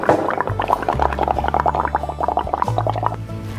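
Bubbles blown through a straw into pottery paint for bubble-painting pottery gurgle and pop in a rapid, continuous burble close by, with a low steady hum underneath.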